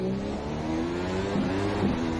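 Steady, moderately loud engine drone from a McLaren Honda MP4-30 Formula 1 car driving at Circuit of the Americas in a racing game, with a sustained tone that rises slightly in pitch.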